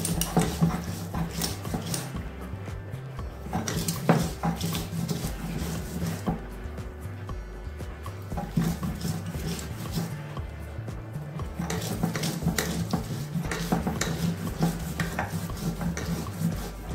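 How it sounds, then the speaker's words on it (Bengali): Six or seven green chillies are ground on a stone grinding slab in a home kitchen. A rough, scraping stone rubs back and forth in a steady repeated rhythm, close up and continuous, with no talking. "আর এর সঙ্গে আমি বেটে নিচ্ছি 6-7টা কাঁচা লঙ্কা"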